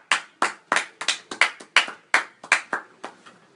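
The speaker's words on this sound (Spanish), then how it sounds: "Démosle un aplauso, por favor." Audience applause greeting a guest onto a stage at a talk event, a brief burst of loud, sharp hand claps in an uneven rhythm that thins out toward the end, with no voices over it.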